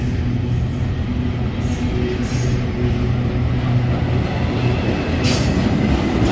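A westbound BNSF intermodal freight train rolls loudly and close by in Whitefish, Montana, with a continuous heavy rumble of wagons and occasional high wheel squeals.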